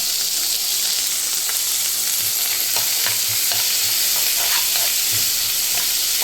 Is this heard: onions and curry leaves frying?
yes